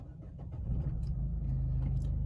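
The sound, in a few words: car engine starting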